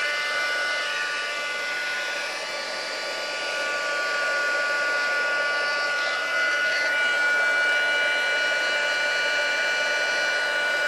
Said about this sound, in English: Heat tool again, sorry for the noise.